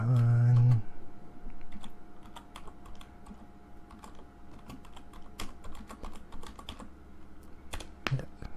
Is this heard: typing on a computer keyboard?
yes